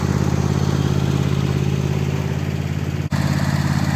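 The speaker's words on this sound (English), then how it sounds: "Well, Little Red Tractor's out." A small red tractor engine runs at a cabin, putting out a steady, loud, close-up chugging drone with a fast even rhythm and one brief dropout near the end.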